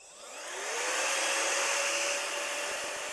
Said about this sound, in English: place in the little pump, and just take our time pumping up